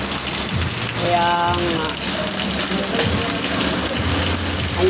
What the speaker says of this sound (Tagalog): Ang lakas pa man din ang ulan.